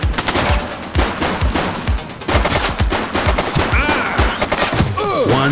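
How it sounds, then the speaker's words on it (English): Sustained gunfire in The Precinct police video game: dense volleys of sharp, close shots in rapid irregular bursts, loud and continuous, with faint whistling sounds near the end and no talking. "He's shooting!"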